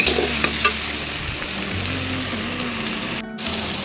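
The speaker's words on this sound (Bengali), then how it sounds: "এবার এটাকে একটু লাল লাল করে ভেজে নেবো" Ghugni seasoned with salt, turmeric and sugar frying in a pan, a loud close sizzle with repeated scraping stirs, one brief pause in the middle, no voices.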